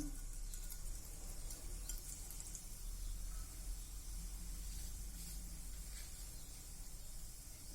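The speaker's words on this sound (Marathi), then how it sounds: "जिरे चटकले की आपण मग टाकूया कांदा" Cumin seeds crackling in a little hot oil in a pan for masala okra, a faint steady hiss and sizzle with scattered tiny pops, low and continuous.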